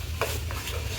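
Onion and tomato paste with ginger-garlic paste is stirred in a hot pan, giving a brief scraping stir over a steady low sizzle, close and alone.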